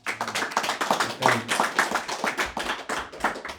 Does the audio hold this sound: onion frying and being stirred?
no